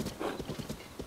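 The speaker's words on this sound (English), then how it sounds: "That's a sassy horse." Horse in Zelda: Tears of the Kingdom on a wide open plain, a short whinny followed by quick, light hoof clip-clops close by, with no voices over it.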